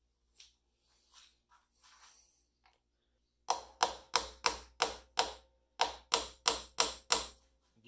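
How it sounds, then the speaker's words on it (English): A hammer strikes a 3mm punch to knock brass grub screws out of an ASSA Twin Combi lock, ringing as a rapid run of sharp metallic taps in two bursts after a few quiet handling clicks. "take a hammer and a punch and knock these right out"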